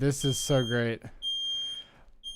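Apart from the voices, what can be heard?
smoke detector alarm beeping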